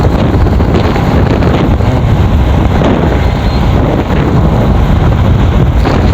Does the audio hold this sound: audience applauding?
no